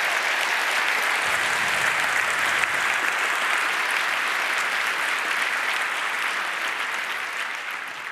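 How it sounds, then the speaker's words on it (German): Steady audience applause at a conference closing event, dense continuous clapping from a large crowd that holds evenly and tapers slightly at the end. "Applaus"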